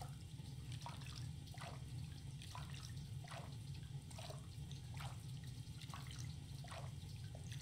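A character moves through water in Stardew Valley, making soft repeated splashing strokes at a steady rhythm over a constant low watery rumble, faint and without voices.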